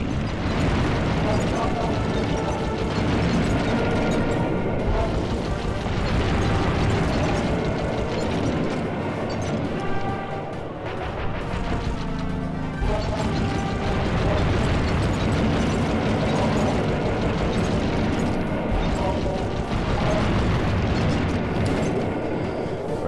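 Sly Cooper and the Thievius Raccoonus final boss battle against Clockwerk on PlayStation, with dense, continuous game audio of shooting, explosions, mechanical clanking and music throughout, loud and unbroken.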